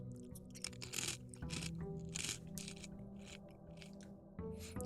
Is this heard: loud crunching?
yes